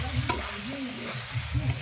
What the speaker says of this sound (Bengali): যতক্ষণ না মাংসতে তেল ছেড়ে দিচ্ছে অতক্ষণ অবধি কষে নেব ভালো করে।